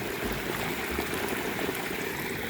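An irrigation channel in a farm field flows with fresh green cow dung slurry mixed into the water, a steady close gurgling rush with low churning pulses.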